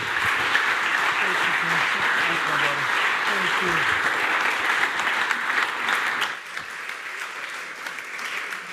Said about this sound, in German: einen großen Applaus geben, als er kommt